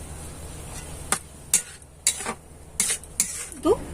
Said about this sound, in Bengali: এবার জল দিয়ে নেড়ে চেড়ে একটা সুজির ডো বানিয়ে নেব